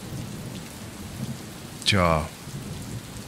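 Steady rain falls in the sci-fi adventure game Gemini Rue, a soft continuous patter with one brief sharp crackling burst midway; a single short word is spoken.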